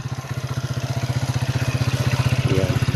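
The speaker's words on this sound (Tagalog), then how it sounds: "Kita mo mga motor dito sa tabihan dumadaan." Motorcycles ride along the roadside of a rough, hard-to-pass road near a barangay, giving a steady, close engine drone with a pulsing beat that grows slightly louder.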